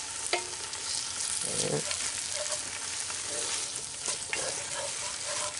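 Chorizo chili in a Dutch oven sizzling softly while a spoon stirs and scrapes through it, continuous and close, with a brief spoken word early on.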